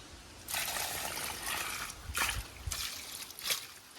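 Water poured to refill a drinking-water container, heard as several close bursts of trickling and splashing that start and stop in short pours, with no talk.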